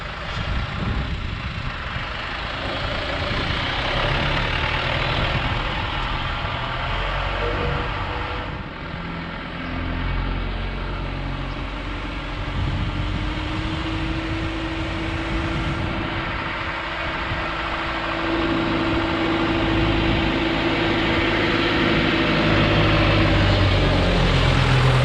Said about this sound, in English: So I'm just going to take the 28 for a little spin on the road.